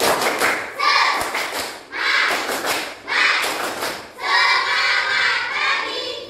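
A school class claps together in a rhythmic cheer routine. Bursts of close, sharp group claps come in patterned phrases separated by short pauses, with voices chanting along.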